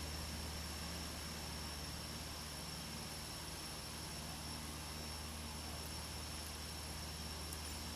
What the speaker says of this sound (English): That Caravan's a pretty nice plane.